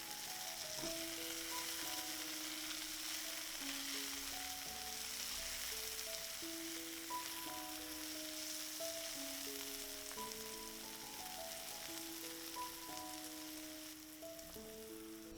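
Vegetables seasoned with garlic powder fry in a skillet, giving a steady, soft sizzle under melodic background music throughout.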